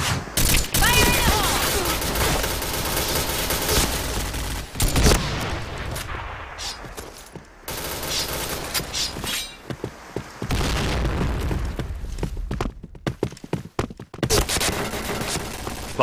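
Grenade blasts and heavy gunfire in the shooter game Point Blank, booming explosions and rattling bursts of shots recurring over sixteen seconds, with pauses between volleys and game voice callouts mixed in.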